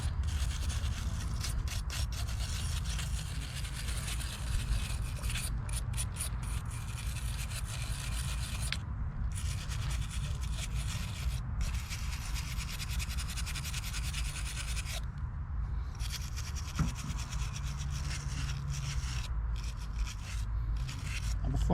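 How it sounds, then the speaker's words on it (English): Steady, continuous scrubbing and rubbing of a wire brush against a metal Mercury SportJet fuel pump part, close up, running on without pause and with only brief breaks. "a little brushing."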